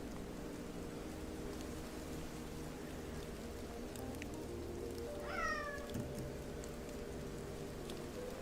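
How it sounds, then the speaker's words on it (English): A cat gives a single rising meow partway through, fairly near and clear, over a steady background hiss and hum with no talking. "Kitty's awake."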